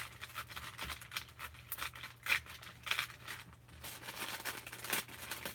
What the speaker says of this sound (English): So I'm just ripping the noisy paper.